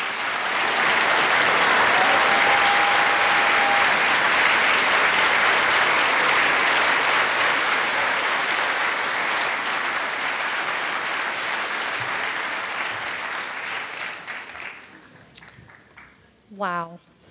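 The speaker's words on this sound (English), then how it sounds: "stand up and let's applaud them because they are our future" Sustained applause from a large audience at an awards ceremony in a convention centre in London, Ontario fills most of the clip, steady and loud, then tapers off toward the end as a voice begins.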